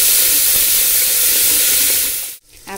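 Chopped onion fries in a hot pan, a loud, continuous sizzle and hiss that drops off suddenly near the end before a brief return, with no voices.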